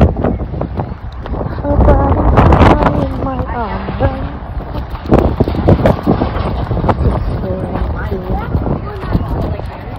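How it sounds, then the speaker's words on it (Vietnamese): Gusty wind in an outdoor park buffets the microphone with steady roaring rumble, while children and adults talk over it nearby. "Gió hay chưa trời."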